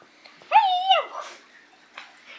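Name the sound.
puppy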